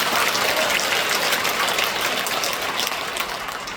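Fervent congregational applause at the 52nd Full Gospel World Mission Convention, a thick, continuous wash of many hands clapping that eases slightly toward the end, with no voices over it.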